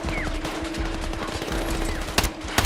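M411 gun firing in Battlefield 6, with rapid, fairly loud bursts over a steady game hum and two sharp louder cracks near the end.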